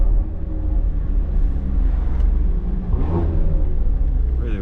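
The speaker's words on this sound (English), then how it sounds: "Car sounds sick though" The catless BMW X3M's engine rumbles deep and loud while driving, swelling in a brief rev partway through, with no talking over it.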